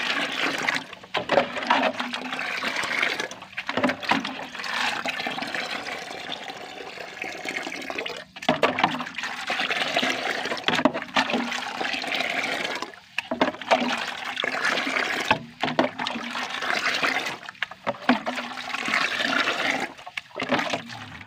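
Water poured for dissolving fertilizer for chili plants, a loud, sustained rushing and splashing that surges and pauses in several bursts over about twenty seconds, with no one speaking.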